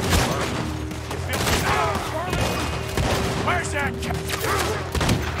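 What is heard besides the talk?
gunfire in video game Red Dead Redemption 2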